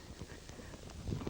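Hooves of a reining horse thudding on the arena ground during a rollback, a few quick uneven dull beats close by, fairly quiet.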